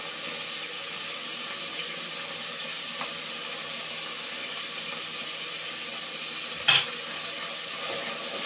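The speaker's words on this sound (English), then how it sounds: "I'm going to like kind of fry this a bit." Blended crayfish frying in a pan, a steady broad sizzling hiss that holds evenly throughout, with one brief sharp clatter near the end, close and without speech.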